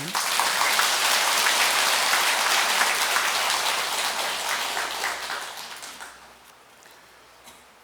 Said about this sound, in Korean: 이해가 좀 되시면 박수 한번 치라고.